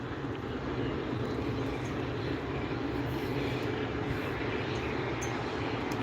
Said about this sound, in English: That's an American Airbus A321 NX.